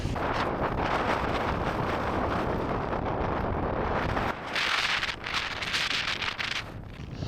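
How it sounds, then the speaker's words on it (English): Strong wind near the summit of Hart Crag, a mountain in the Lake District, roars steadily into the microphone as loud continuous buffeting, easing slightly partway through and then gusting back harder with a hissing edge. "it's rough out here, windy as hell"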